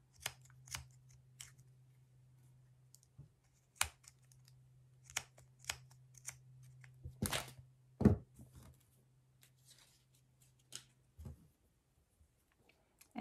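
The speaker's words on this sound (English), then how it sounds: "So I'm going to cut up the little channels in the sides of the pom-pom." Sharp scissor snips cut into the sides of a yarn pom-pom for a winter angel ornament, a dozen or so close, crisp cuts spaced irregularly over a faint steady hum, with no speech.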